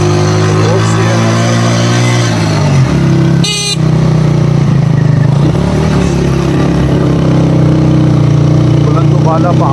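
A motorbike travels a mountain road toward Muzaffarabad in Pakistani Kashmir with a loud, steady engine drone and wind roar, broken briefly by a sharp horn blast.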